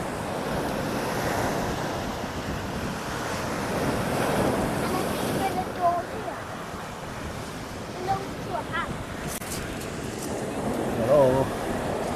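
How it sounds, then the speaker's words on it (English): Strong wind buffets the microphone while waves surge and break at a beach, a loud continuous roar rising and falling, with brief faint voices and sounds near the end. "It's really windy. Much more windy than I thought it was going to be today."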